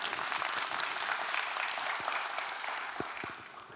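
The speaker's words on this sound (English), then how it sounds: "Bit of a clap for that." Audience applause rises from a live crowd at a talk, a dense steady clapping that holds loud throughout, then eases slightly at the end.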